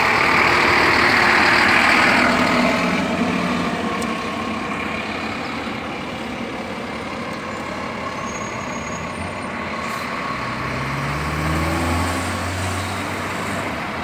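An intercity bus on the Goiânia to Brasília route arriving at the Brasília interstate bus station, its diesel engine rumbling steadily and fairly close over station ambience, with a low engine drone rising near the end.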